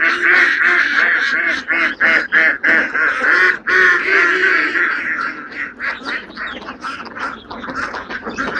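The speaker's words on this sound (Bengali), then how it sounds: "দেখুন কত সুন্দর সে হাঁসের বহরটি" A flock of five-month-old ducks on a pond farm, quacking densely and continuously, loud and close, many overlapping calls.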